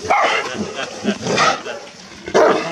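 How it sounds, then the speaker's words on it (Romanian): A large Romanian Bucovina shepherd dog barks and whimpers close by at a kennel, with excited, uneven yelps mixed with people talking. "un câine ciobănesc românesc de Bucovina"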